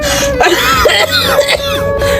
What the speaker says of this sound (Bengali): আমি কি ইচ্ছা করে কাশতেছি রে বাজান?